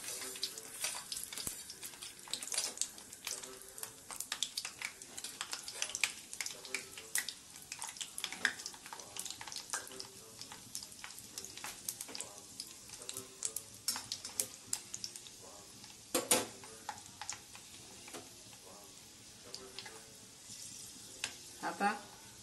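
Fenugreek seeds hit hot oil as tempering for a carrot, chilli and jujube pickle. A quiet, continuous sizzle with scattered sharp crackles and pops runs throughout, fairly close and soft.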